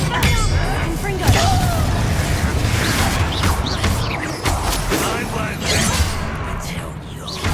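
Confringo fire spells in the video game Hogwarts Legacy, going off as a run of loud explosive bursts and crashes over dense background noise, with a voice speaking among them.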